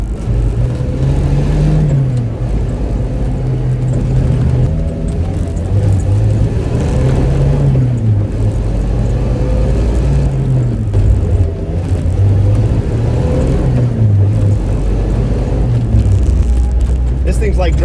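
Suzuki Samurai with a swapped-in 2.0L engine holding about 4,000 RPM on a frontage road, a steady loud engine drone with wavering pitch and road rumble from inside the cab, continuous throughout.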